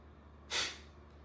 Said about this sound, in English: and then I'm doing this all through my nose, okay? And as I'm letting out, I let out really quick, the exhale.